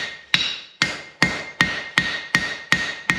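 Seven sharp hammer strikes ring out on hot metal at a blacksmith's anvil, each blow bright and metallic with a short ringing decay, falling in a steady, slightly quickening rhythm close by with no talk.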